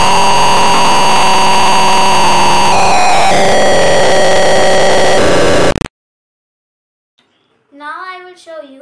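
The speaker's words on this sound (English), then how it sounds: "Then when the buzzer rings" A loud, harsh buzzer in a circuit simulation, triggered by pressure on a force sensor, drones continuously for several seconds, then cuts off abruptly into silence before a short tonal sound near the end.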